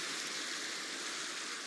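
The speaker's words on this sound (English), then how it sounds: "It's just raining." Steady rain hisses evenly in the Minecraft video game, a soft continuous wash of falling water with no voices over it.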